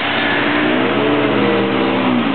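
A local newspaper delivery truck drives past on a city street, its engine a steady mid-pitched rumble that rises slightly as it passes nearby.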